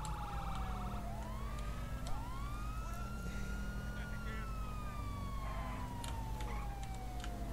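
Police car siren from the video game GTA V wails in rising and falling sweeps, loud and continuous over an engine drone, with a voice talking briefly.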